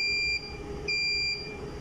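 A plasma sterilizer's indicator reader sounds its alarm in two steady electronic tones, each about half a second long with a short pause between, over a hum of room noise.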